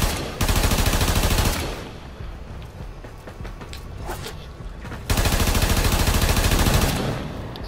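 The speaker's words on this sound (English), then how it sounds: "Just keep shooting." Weapons fire in the sci-fi shooter game Warframe in two loud, sustained rapid-fire bursts, separated by a few seconds of quieter game sounds with scattered shots.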